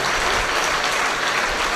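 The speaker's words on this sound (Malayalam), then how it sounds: "കൈയടിച്ച് കർത്താവ് ഹല്ലേലൂയ" A church congregation claps along together during a Malayalam prayer service, a steady dense wash of many hands at close range with no pauses, a little voice faint underneath.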